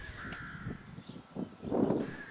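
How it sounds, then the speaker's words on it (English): Crows caw noisily outdoors in the background, several harsh calls spread across the clip with gusty wind noise blowing underneath. "we got wind in the back and noisy crows in the background"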